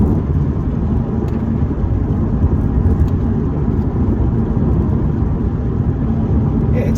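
A 2021 Lexus RC F Fuji Speedway Edition drives on a race track, its engine giving a steady, loud, close roar with constant road and wind rumble throughout, no talk over it.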